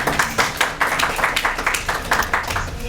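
Audience at a book launch gathering of poets and literary figures claps in quick, steady rhythmic bursts, loud and close, with no voices over it.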